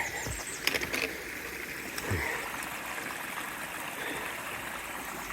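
Steady broadband rush of a mountain stream flowing beside a trail in the Appalachian mountains, continuous and moderately close, with a few faint bird chirps above the water noise.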